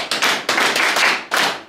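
Classroom applause for a student at a school chemistry practical, a few close, loud bursts of group clapping separated by brief gaps, with no talking over it.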